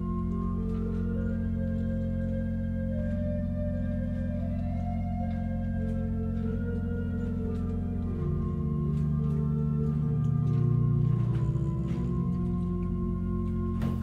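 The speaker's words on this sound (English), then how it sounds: "I also like to use the 8-foot flute and the quintadena as a solo" A Hinsz pipe organ in a large church plays a quiet solo on its 8-foot flute and quintadena stops, with sustained, soft held tones and slow note changes ringing alone in a reverberant space.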